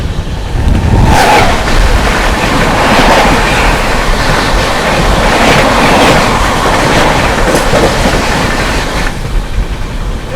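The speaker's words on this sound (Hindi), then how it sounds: "चलिए यहाँ पर अपनी क्रॉसिंग होने वाली है 12878 न्यू दिल्ली रांची गरीब रथ के साथ।" Loud, continuous rumble and rattling clatter of the Seemanchal Express as it passes the New Delhi–Ranchi Garib Rath train at close range, a steady roar of rolling coaches with no voices.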